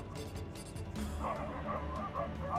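A dog barks behind a house in the morning, with a few short, fairly faint yips and barks coming from some distance over a low background.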